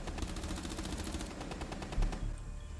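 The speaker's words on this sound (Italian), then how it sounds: "Sì, sì, gli sto sparando." Rapid automatic gunfire in the video game Rainbow Six Siege, a fast, even stream of sharp shots that runs for about two seconds, then stops, fairly quiet overall with no talking over it.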